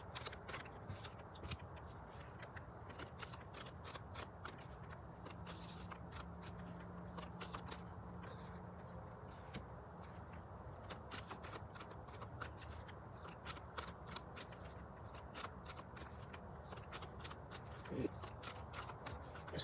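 A deck of tarot cards shuffled at length, with steady dense riffling and crisp card flicks running throughout, close and moderately quiet, with a faint tone in the background.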